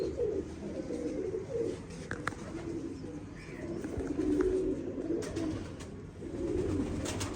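Pigeons coo repeatedly in low, soft, rolling calls at close range over faint background noise, with a few sharp knocks and clicks in between.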